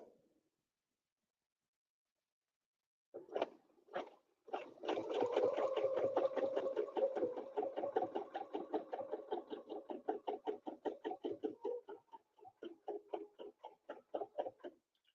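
A sewing machine stitches a quilt guided by a ruler, starting with a few short taps and then running in a long rhythmic run of rapid needle strokes that gradually slows and ends in separate pulses.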